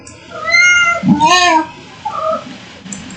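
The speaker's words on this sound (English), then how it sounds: "What are you meowing at?" A cat meows several times at close range, loud drawn-out cries with a short pause before a softer final call.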